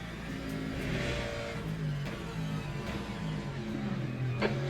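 Race car engine in Le Mans Ultimate drones steadily as another car runs alongside at Imola, the pitch rising and falling with gear changes and one sharp transient near the end.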